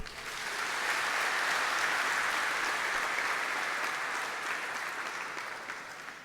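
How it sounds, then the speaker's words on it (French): A church congregation at a closing Mass claps steadily for several seconds, a dense, even wash of applause that swells early and slowly tapers toward the end. "Applaudissez-les."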